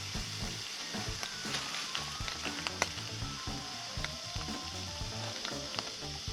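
Bacon fries on an induction cooker powered by a 1500 W inverter, giving a steady, close sizzle with faint crackles and a few sharp pops throughout, with no talking.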